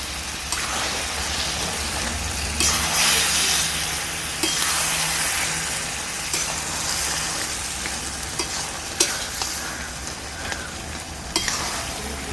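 Taro leaves cooked with a fish head are sautéed in a pan to dry off their water, giving a steady close sizzle with intermittent scrapes and knocks from stirring and no talking.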